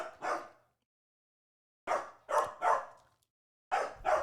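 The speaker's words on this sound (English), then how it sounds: "that was the loudest bark I've ever heard from Fiona so far." A dog barks loudly and close, one short bark, then a pause, a quick run of three barks, another pause and two more, with no talk over it.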